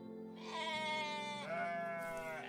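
Two drawn-out bleats from a sheep in the video game OneShot, each wavering and nasal, heard close and clear against quiet game ambience with no talking.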